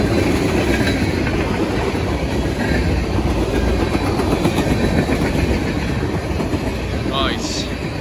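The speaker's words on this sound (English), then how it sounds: "Holy crap, that's a long train." A long CSX Q561 freight train made up of many tank cars rolls past close by at the Attridge Road crossing in Churchville, New York, with loud continuous clickety-clack of wheels over rail joints and a high screech near the end.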